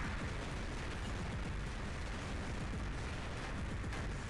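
Plasma Griff weapon firing in a video game, a dense, continuous roaring blast of noise that stays loud and unbroken throughout.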